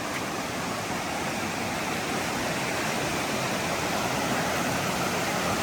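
Creek water at Garland Park rushes in a steady, broad hiss, constant and fairly loud with no breaks or voices.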